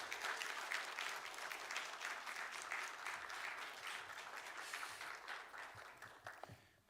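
A church congregation at a devotional worship service applauds warmly to welcome the pastor, a steady sustained round of clapping from many hands that tapers off at the end.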